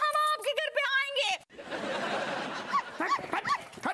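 A dog barks a few times in a Hindi TV comedy scene, short yelps sounding after a person's voice and amid noisy chatter and laughter.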